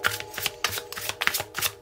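Tarot cards being shuffled by hand for a reading, a close, crisp run of riffling flicks and soft slaps in quick irregular bursts, with no voice over them.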